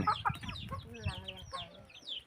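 Chickens kept at a rural home cluck in short, irregular bursts, with several close calls overlapping one another. Faint background voices can be heard behind them.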